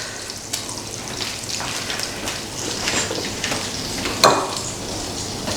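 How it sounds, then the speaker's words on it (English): Soft, continuous sizzling of barramundi frying in a pan, crackling and popping irregularly with one sharper pop near the end. "You can hear it sizzling away there in the pan."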